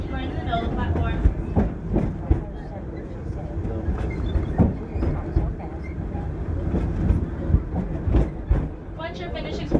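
A train at Disney's Animal Kingdom running to Rafiki's Planet Watch rumbles steadily with repeated clacks and knocks close by, and voices talk over the noise throughout.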